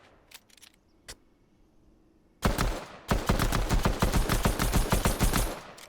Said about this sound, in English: there's more shots going on